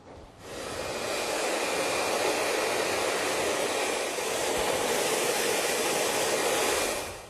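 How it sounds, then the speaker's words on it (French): A hair dryer switches on and blows with a steady, close whooshing roar for several seconds before cutting off at the end, blending a clip-in fringe into hair. "nous allons prendre le sèche-cheveux juste pour bien mélanger l'ensemble des cheveux"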